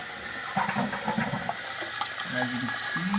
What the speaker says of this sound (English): So this is the half flush.